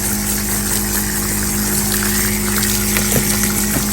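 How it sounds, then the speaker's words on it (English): Water gushes loudly and continuously onto worm bedding in a worm farm bin, a close, steady rushing wash with a few small splashes and no talking. "I'm adding a lot of water because, well, it's like the desert in here."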